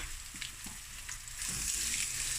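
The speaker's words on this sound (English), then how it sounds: "Give this a quick fry, guys." Sliced onions and pilchard frikkadel meatballs fry in a pan, a steady sizzle with light stirring clicks that grows slightly louder toward the end, close by and without talk.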